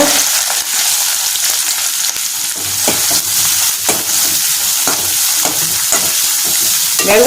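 Chopped onions, 100 grams, fry in a pan with green chillies and curry leaves while being stirred, giving a loud, steady sizzle broken by repeated scraping strokes, with no voices.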